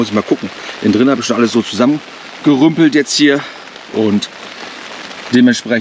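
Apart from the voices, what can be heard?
steady continuous rain falling on a tent at a campsite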